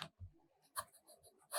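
A fountain pen writes with Platinum Carbon Black ink on yellow Rhodia paper, making soft, close scratching strokes in short bursts with brief pauses between them.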